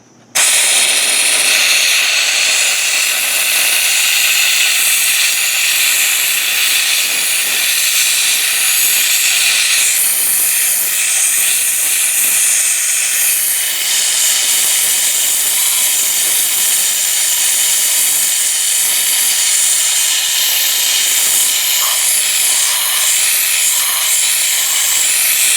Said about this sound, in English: this steam, it goes everywhere